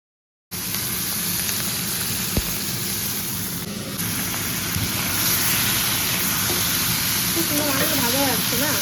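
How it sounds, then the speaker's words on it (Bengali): Fish frying in hot oil in a wok while cooking potato-eggplant mourola fish curry: a steady, even sizzle and hiss fills the whole stretch at close range, with one brief sharp knock and no talk over it. "তেল গরম হলে এরপর আমি মাছগুলোকে ভেজে নেব।"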